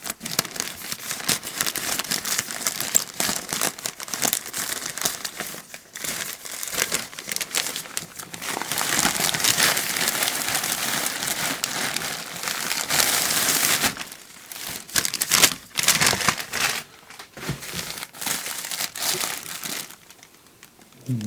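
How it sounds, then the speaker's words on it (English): A plastic mail package being opened with rusty scissors: steady crinkling and crumpling of plastic for about twenty seconds, close and fairly loud, with snips and tearing, and brief pauses toward the end. "Let's open it up with a pair of rusty scissors."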